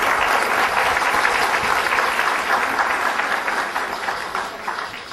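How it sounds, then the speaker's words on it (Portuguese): Loud, dense applause from an audience at a business seminar, a thick wash of many hands clapping together that stays strong and then eases slightly toward the end. "A round of applause for all the women here."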